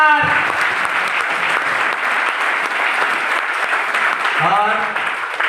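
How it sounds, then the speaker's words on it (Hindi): A training-session audience breaks into loud, sustained applause, dense clapping that holds steady for several seconds while a voice speaks briefly at the start and again near the end. "जोरदार ताली होना चाहिए"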